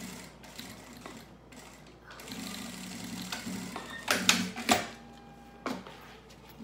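A sewing machine stitches a closing seam close to metal hardware, its needle running in short mechanical bursts that stop and restart, with a steady low hum and a few sharper clacks near the end.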